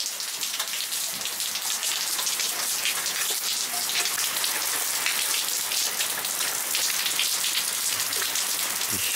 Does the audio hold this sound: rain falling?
yes